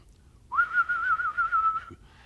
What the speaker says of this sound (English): He will do a warble whistle like none other